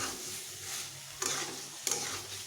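Yard-long beans are stirred and sautéed in a pan, with a constant sizzle and a couple of sharp scraping strokes, heard close with no speech.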